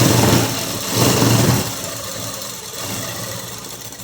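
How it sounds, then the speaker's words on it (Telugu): A sewing machine stitches blouse fabric with a steady motor whir that swells in two short runs, then settles into a softer, continuous hum, with no one speaking. "చూడండి ఇలా అనేది కుట్టుకోవాలి"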